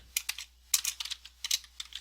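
Typing on a computer keyboard while entering Python code, a quiet close series of quick uneven key clicks in short bursts with brief pauses between them.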